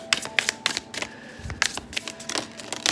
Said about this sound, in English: let me just pull your other cards